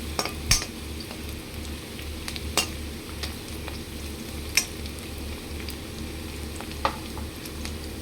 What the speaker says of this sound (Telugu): ఆనియన్ అయితే హీట్ అవుతుంది